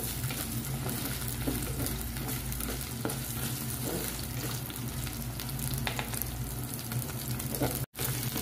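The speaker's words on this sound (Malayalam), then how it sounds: "ചെറിയ ഉള്ളി വഴന്ന് വന്നിട്ടുണ്ട്." Small shallots sautéing in a pan, a soft, steady sizzle with faint stirring scrapes heard close up and alone, with a brief dropout near the end.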